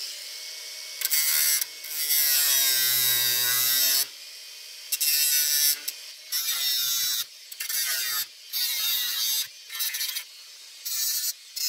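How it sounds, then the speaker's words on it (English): A power driver runs screws into a thin steel patch on a steel door in repeated whirring bursts, several short runs separated by brief pauses, close and loud with ratcheting, rising pitch as each screw seats. "notice that I'm using a stick to hold the patch while I drive in those first screws"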